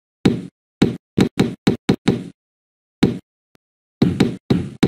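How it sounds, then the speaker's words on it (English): Knocking in the Living Books game The Cat in the Hat: crisp wooden knocks in quick bursts, a run of several, a pause, a single knock, then another cluster, close and clear with silence between. "Any knocks that you knock, we will knock back to you."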